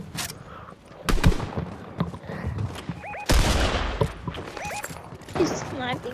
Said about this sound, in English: He's sniping.